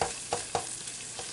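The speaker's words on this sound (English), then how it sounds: "We're going to cook this about 4 or 5 minutes. We want to get our onion translucent" Diced onion cooks in melted butter in a pan, a soft steady sizzle broken by a few spatula scrapes and stirs, close and alone with no voices.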